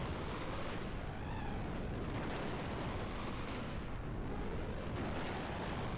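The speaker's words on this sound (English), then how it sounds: "Oh, give me that long explosion." A long, continuous rumbling explosion from the Xenogears video game, dense and roaring without pause for several seconds.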